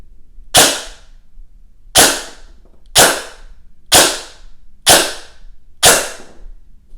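Six sharp, evenly spaced single shots from a G&G ARP 556 airsoft rifle firing 0.28 gram BBs through a chronograph, each a loud close snap with a brief decaying tail, roughly one per second.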